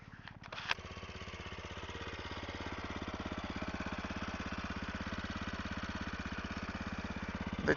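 An SWM Superdual T motorcycle engine idles steadily with an even, rapid low thump, preceded by a brief clatter at the start and continuing alone without talk.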